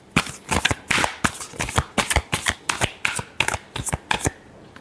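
Tarot cards being shuffled by hand, a rapid series of crisp riffling bursts and slaps in an even rhythm, close and fairly loud, with no talk.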